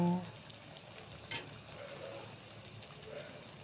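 Chicken fries in a pan with ground coriander, cumin and chili, giving a soft, steady sizzle with faint stirring scrapes, quiet and close.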